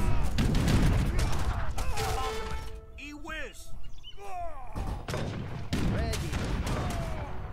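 Cannon and gunfire from an Age of Empires 3 campaign battle, a dense run of rumbling booms and crackling shots with overlapping unit voices and chirps in the middle, fairly loud throughout.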